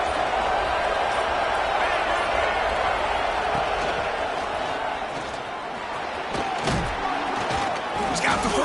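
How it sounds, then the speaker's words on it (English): Fired-up football stadium crowd in a video game matchup against Oregon makes a loud, continuous roar that swells and dips slightly, with scattered thuds and sharp accents rising out of the steady wash of noise. "It's early, but this crowd is fired up. Listen to this noise here."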